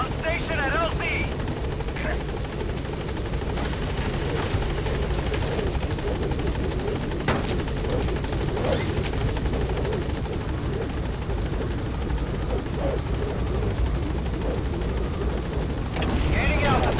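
B-Quad support helicopter hovering at a landing zone in Metal Gear Solid V: a loud, steady rotor roar and engine drone filling the whole stretch, with faint distant booms and gunfire mixed in.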